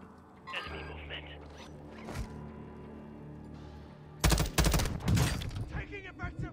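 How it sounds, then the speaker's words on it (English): Gunfire in Call of Duty Warzone 2.0. After a quieter stretch of mechanical game sounds and a voice, a sudden cluster of loud, sharp shots erupts near the end, then trails off. "Taking effective fire!"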